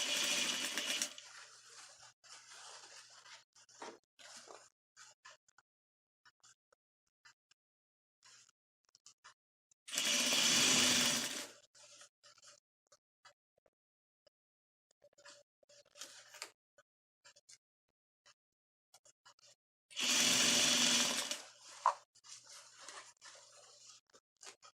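A sewing machine stitching a blue tulle and satin kids' skirt runs in two steady whirring bursts of roughly a second each, spaced about ten seconds apart, with quieter fabric handling and small clicks in between.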